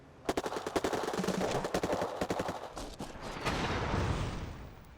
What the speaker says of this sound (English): the airstrike took it out